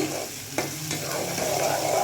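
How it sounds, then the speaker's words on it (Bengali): Garlic sizzles and crackles in hot oil, a steady loud frying hiss with a couple of sharp stirring clicks partway through. "রসুনটা একটু ভাজা ভাজা হোক"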